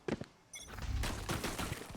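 Scattered pistol shots in the Valorant video game during a VCT Americas pistol round, a few sharp cracks at the start followed by a dense flurry of rapid gunfire and clatter.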